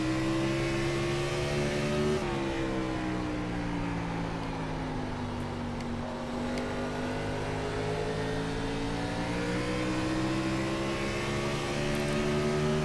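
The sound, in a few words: race car engine at half throttle in the iRacing video game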